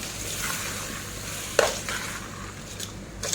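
Rice with dried prawns being stirred and fried in a pan, with a steady close sizzle and a few sharper scraping strokes of the spoon; no voices.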